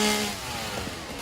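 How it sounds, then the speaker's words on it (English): A chainsaw in the Satisfactory video game drones with a steady buzzing engine whine and faint tonal overtones, loud at first and then holding steady without a break. "Probably get annoyed by the constant chainsaw noises"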